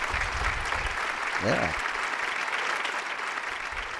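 Studio audience on a firearms talk show applauds steadily to welcome a guest, a dense even round of clapping throughout, with a brief spoken word from someone in the middle.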